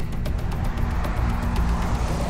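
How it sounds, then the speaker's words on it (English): A brand-new Lexus RX 350 runs on a short factory test track, its engine a steady close drone with faint tire and road noise throughout and no voices. "every car is put through basic tests on a short track"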